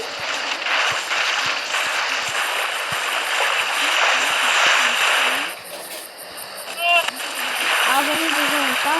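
Water pouring and splashing in the Toca Nature video game, a steady wash of game water sound lasting most of the clip, with brief chirpy tones near the end and someone talking over it.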